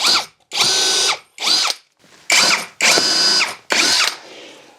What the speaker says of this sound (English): So I'm going to pre-drill right here and over here on the edge.